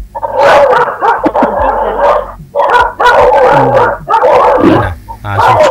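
Several dogs bark out in the street in quick, loud, overlapping bursts with yips and whimpers, close by and nearly continuous, with short pauses between volleys.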